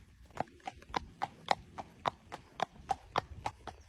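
A horse walks along a path toward a bridle path, its hooves clip-clopping in a steady, even rhythm of sharp close knocks, with no talk over the footfalls.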